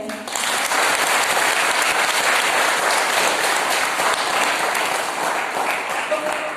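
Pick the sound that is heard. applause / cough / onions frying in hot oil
applause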